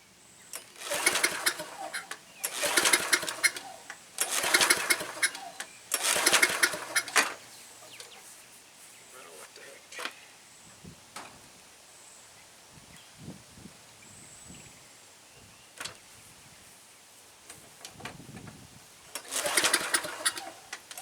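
A White Outdoor push mower engine sputters and surges in several loud bursts, each a couple of seconds long, separated by quieter gaps with faint rustling, then one more burst near the end.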